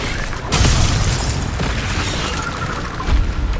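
Fiery Incendio spell blast in the Hogwarts Legacy video game, a loud, dense roaring burst that swells sharply then churns steadily with crackling texture, close and filling the whole mix.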